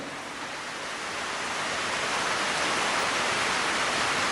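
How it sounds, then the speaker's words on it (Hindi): Water gushing out of dug ground in a cartoon makes a steady, broad hissing rush that swells slightly and then holds at a constant, fairly soft level, with no speech. "अरे पानी।"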